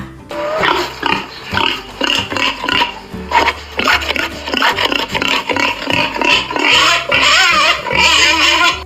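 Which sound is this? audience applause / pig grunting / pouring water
pig grunting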